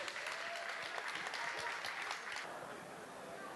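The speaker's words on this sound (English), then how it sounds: "Please make some noise for your winner, Lee Millhouse." A crowd at a boxing event at Edgbaston Stadium, Birmingham, applauds loudly and continuously as the winner is announced, dense clapping that slowly fades at the end, with no clear voices standing out.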